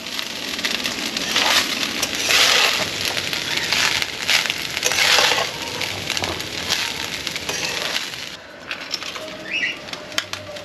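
Spices pounded in a metal mortar and pestle for Bengali fried rice and chili chicken, a fast, close clattering of dense crushing strikes with brief louder bursts, fading to quieter scattered taps near the end.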